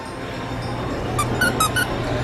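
A squeaky baby toy in an IKEA shop gives four short, bright squeaks in a quick run, close by over steady store background hum.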